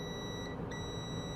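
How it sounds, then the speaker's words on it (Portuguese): A multimeter on its continuity setting gives a steady electronic beep tone, held throughout with only a brief dip near the middle, faint and unaccompanied by speech. "indica 0 e bipa"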